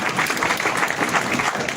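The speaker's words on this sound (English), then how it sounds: "Can we applause our leaders once again?" An audience at a political party press conference breaks into brief, dense applause, a steady patter of many hands clapping close by.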